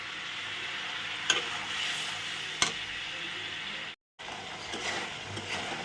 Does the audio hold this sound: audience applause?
no